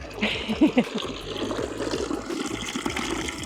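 Water from a holy-water well in Bulgaria splashes and pours continuously at close range, with gurgling bursts early on and a steady rushing flow afterward.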